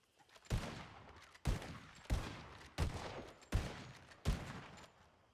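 Six evenly spaced single gunshots ring out in a roleplay video game, each a sharp loud crack with a short decaying tail, spaced roughly a second apart with no talking.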